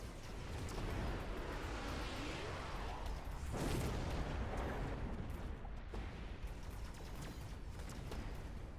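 A video game missile barrage: a steady, dense, roaring rush of launches that runs without a break, loud and broad, with a heavier surge near the middle.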